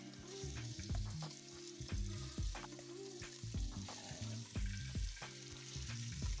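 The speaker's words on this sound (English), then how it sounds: "So we are going to brown our oxtail in a nice medium-high heat." Oxtail sizzles steadily in a pan over medium-high heat, a continuous crackling fry with occasional scrapes and clinks as pieces are moved around, no one speaking.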